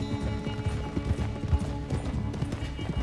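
Galloping horse hooves in a video game race along a path toward a ranch, a steady rapid clip-clop that stays close and fairly loud throughout.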